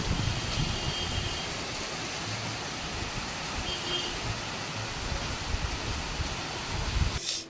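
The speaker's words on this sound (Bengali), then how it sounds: "বাইরে কি মুসল ধারে বৃষ্টি নেমেছে দেখো" Heavy monsoon rain pouring down outdoors, heard as a steady, dense hiss that holds evenly throughout with no break and no voices.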